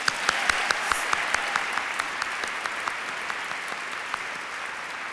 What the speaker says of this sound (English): all the poets who submitted work this year, they all deserve a round of applause